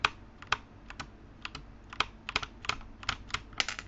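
The Alt key on a Sentey Cobalt Pro keyboard is pressed over and over, giving about a dozen sharp, close clicks at an uneven quick rhythm with no talking.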